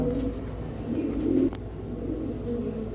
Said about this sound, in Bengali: স্পেঞ্জেল কালারের জার্মান মডানা একটা পেয়ার